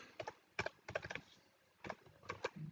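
A computer keyboard being typed on in short clusters of soft, quick keystrokes with brief pauses between them, quiet and close, with no talking.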